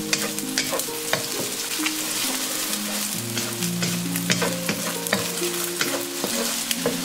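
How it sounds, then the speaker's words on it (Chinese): Beaten egg hits hot oil in a wok and is stir-fried, a steady crackling sizzle with repeated scraping strokes of a spatula, close and continuous with no talk. "起锅烧油，油热以后倒入鸡蛋液"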